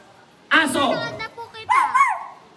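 A person imitates a dog barking, giving a couple of short, close bark-like yelps in quick succession.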